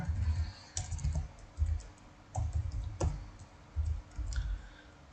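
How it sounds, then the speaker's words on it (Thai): Clicky computer-keyboard typing comes in short irregular bursts of keystrokes, close and clear, with brief pauses between the runs. "เราพิมพ์ไปก่อนครับ"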